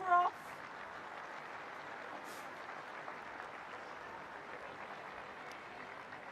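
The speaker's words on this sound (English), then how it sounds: "that warm round of applause" Warm, steady applause from spectators at a women's Premiership rugby match between Leicester Tigers and Bristol Bears, heard at a distance and continuing evenly after a brief louder burst at the start.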